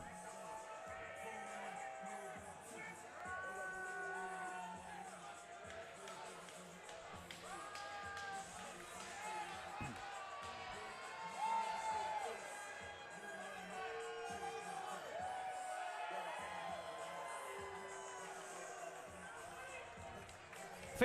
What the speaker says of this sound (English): fans are still booing, by the way